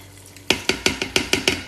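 White rice browning in oil and garlic in an Instant Pot: six sharp scraping stirs after a quiet start, each followed by a short sizzle, coming in a quick even rhythm close up.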